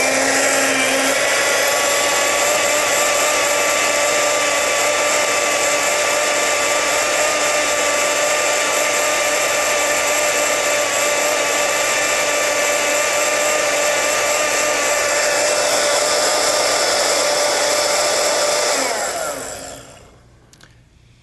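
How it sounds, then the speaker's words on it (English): Kitchen blender whirring steadily as it blends breakfast cereal, a loud continuous motor drone with a high whine that holds for about nineteen seconds, then cuts off and spins down into quiet. "Now I'm going to blend it for a little while."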